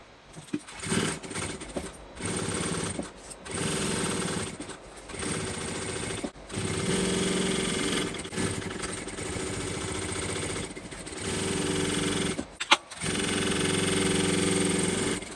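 A sewing machine stitches a second row of seams on a bucket bag, running in steady mechanical bursts separated by short pauses, close and alone.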